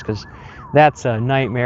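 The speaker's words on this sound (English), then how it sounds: "So sorry about the sirens in the background." Emergency vehicle sirens wail in steady rising and falling tones somewhere outside, carrying clearly behind someone talking close to the microphone.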